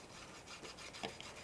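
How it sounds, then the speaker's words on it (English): A fingertip rubs Rub and Buff silver leaf wax over a raised, embossed metal surface, making a faint, brief dry rubbing that is heard alone. "you just pick this up with your finger and rub it over the raised surface"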